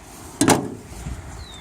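Hood latch on a 1948 Chrysler Windsor releases with a single short, sharp metallic clunk up close, followed by a faint lighter knock and quiet surroundings.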